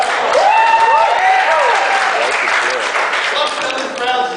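A stand-up comedy crowd applauds in a dense, continuous burst that stays strong throughout, with vocal cheers and voices mixed in.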